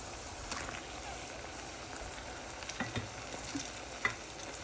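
Buttered garlic oysters stir-fry in a pan with a steady sizzle and occasional clinks of stirring, moderately close and unbroken.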